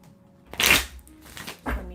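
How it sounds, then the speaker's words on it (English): Tarot cards are shuffled by hand in short riffling bursts, a louder one followed by two softer ones, close to the microphone with nothing else heard. "Let me shuffle and then I'll get started."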